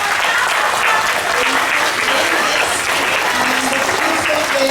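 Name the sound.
school assembly applause for class 1E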